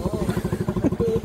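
A Suzuki Raider 150cc motorcycle engine pulses rhythmically during a knee drag, a close, steady chugging throb with rapid regular beats, under people talking.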